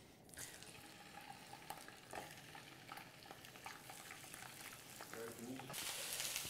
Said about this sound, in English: Okay, sausages on.